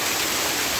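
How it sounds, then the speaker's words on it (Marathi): Very heavy monsoon rain pours down in a steady, dense hiss, loud and unbroken through the brief moment. "हा पाऊस अतिमुसळधार पाऊस आहे"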